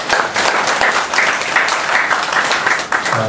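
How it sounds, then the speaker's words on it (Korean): Congregation applauding during a church service, a sustained, fairly loud wash of many hands clapping evenly throughout. "정말 장모님께 감사의 박수를 좀 보내주시면 고맙겠습니다"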